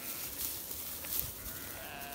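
Sheep bleat faintly at a farm with donkeys and a ram nearby, a couple of soft, wavering calls over steady outdoor background noise, with no talk.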